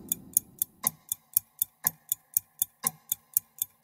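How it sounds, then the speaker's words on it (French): A clock ticks steadily at about four beats per second, crisp and close, with a faint low murmur at the start and no other sound. "Ah bah ça y est, je l'entends le tic-tac."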